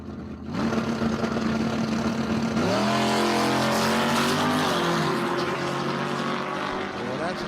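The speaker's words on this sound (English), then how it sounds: "Reed Roberts Rickerson in the burnout box right now with time to spare" A drag race car roars through a burnout at Empire Dragway, a loud sustained engine howl whose pitch steps up and holds with tire roar, while an announcer talks over it.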